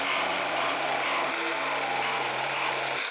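A Milwaukee M18 Fuel Sawzall with a carbide-teeth blade cutting through wood: a steady, loud buzzing reciprocating drone that holds throughout and cuts off abruptly at the very end.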